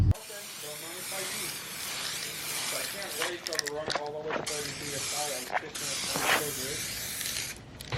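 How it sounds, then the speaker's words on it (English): An aerosol spray can hisses in several steady bursts as clear coat goes onto car emblem letters, close and continuous with brief pauses between passes. "I think I'm going to spray these with some clear, just to give them a really nice finish"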